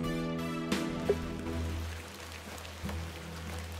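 Rain falls in a video game, The Excavation of Hob's Barrow, as a soft, steady patter under a fading musical tone and a few scattered clicks and thuds.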